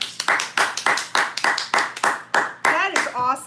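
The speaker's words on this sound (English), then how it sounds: "Let's give her a round of applause." Hands clap in a steady round of applause, a quick series of sharp, close claps from a small group, with a voice briefly heard near the end.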